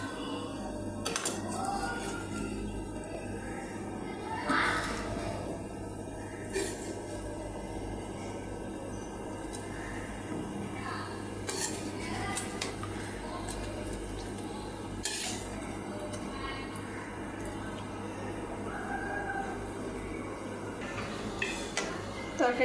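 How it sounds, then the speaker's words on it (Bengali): Hilsa fish curry being served from a pot onto a plate, quiet scattered clinks and scrapes of spoon against cookware over a low steady background hum. "এখন তরকারিটা বেড়ে নেব।"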